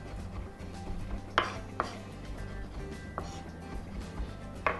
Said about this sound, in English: We'll cut it through, then we're going to line the pieces up so we get more cuts per swipe.